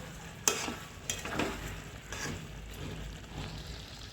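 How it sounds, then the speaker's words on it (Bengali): Ghee-coated potol korma being stirred in a pan, giving soft scraping strokes and a low, steady sizzle of frying close by, with a few sharper clinks of the spoon against the pan. "সামান্য ঘি দেব, ভালো করে নেড়ে নেব।"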